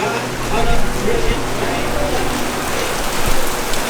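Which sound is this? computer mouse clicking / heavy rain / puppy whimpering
heavy rain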